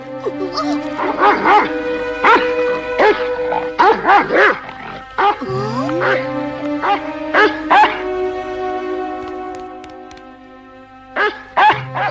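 A dog barks and yips in repeated loud, close bursts, with a whimpering whine in the middle and a couple of sharp barks at the end.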